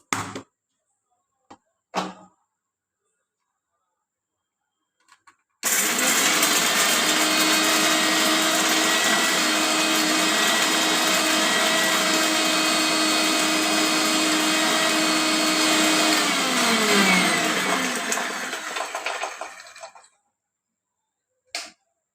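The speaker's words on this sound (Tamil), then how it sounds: "நம்ம வந்து மிக்சி பண்ணிக்கலாங்க" A kitchen mixer grinder grinds cumin and other rasam ingredients: a few brief clicks, then a loud, steady motor whine for about fourteen seconds that winds down and stops.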